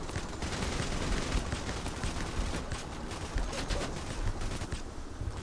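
Gunfire from a PayDay heist shootout on Green Bridge, dense overlapping bursts of automatic and single shots rattling continuously at moderate distance over a noisy background.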